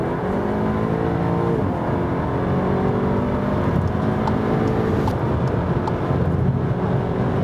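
A 280 hp AWD Skoda Superb SportLine engine roars loudly and continuously in sport mode, its pitch climbing through several gear shifts as it accelerates hard on a freeway, with steady road noise underneath.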